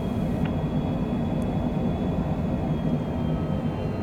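Steady, loud drone of a small single-engine airplane in flight, heard from inside the cockpit on a cross-country hop from Sheridan, Wyoming to Billings, Montana, a constant low rumble with an engine hum and no talk.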